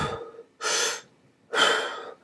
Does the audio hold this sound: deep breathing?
yes